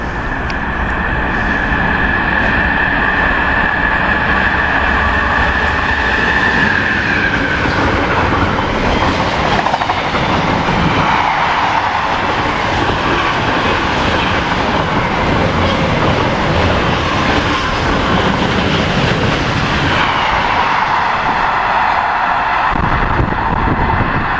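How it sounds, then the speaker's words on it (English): A northbound freight train passing close by on the railway, a loud continuous rolling roar with wagon clatter and shifting tones that lasts the whole time. "This freight is heading north."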